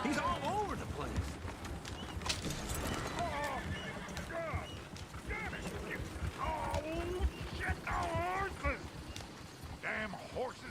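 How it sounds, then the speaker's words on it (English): Horses in Red Dead Redemption 2, hooves clopping in a busy scatter alongside snorts and whinny-like cries, close and fairly loud, with voices talking over the commotion. "Damn horses"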